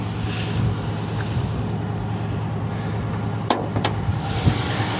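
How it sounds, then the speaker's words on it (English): A Rover V8 engine idles with a steady low rumble under an open bonnet, close and continuous, with a couple of sharp clicks partway through. "Listen to that V8 rumble."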